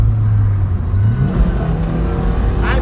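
A 2022 Lada Niva Legend accelerating on the road as the driver eases on the throttle through a gear change, its engine drone loud and close and rising in pitch for about three seconds.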